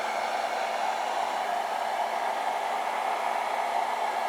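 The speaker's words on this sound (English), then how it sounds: "I'm gonna hit this with the heat gun before I cut it all the way out" A heat gun blows steadily on a plastic prop piece, giving a loud, continuous airy whoosh with a faint tonal hum that holds unchanged throughout, with no voices.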